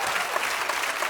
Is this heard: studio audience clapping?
yes